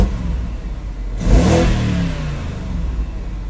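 A BMW engine with twin VANOS revs as the throttle is blipped, a single rising and falling surge about a second in, then settling back to a steady idle hum, close and with no talk.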